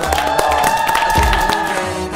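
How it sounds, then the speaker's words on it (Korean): Crowd applause and cheering at a K-food cooking contest, steady clapping with some shouts filling the short stretch, loud and close. "박수 한번 쳐줄까요?"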